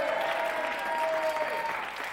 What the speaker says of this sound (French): Corinne et Dominique, 20 points, on les applaudit.